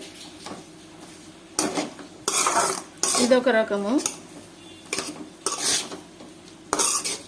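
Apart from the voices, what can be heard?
stirring amaranth leaf (thotakura) stir-fry in a pan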